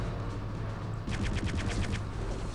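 Gunfire in Return to Castle Wolfenstein, with a background din that breaks into a fast rattling burst of automatic fire about halfway through, loud and close.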